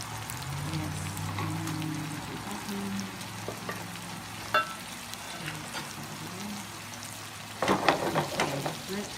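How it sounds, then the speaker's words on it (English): An enchilada sizzling in olive oil with red sauce, a steady close crackle and spatter with a low hum under it, swelling into louder bursts of frying near the end. "we're going to let it fry for a little bit"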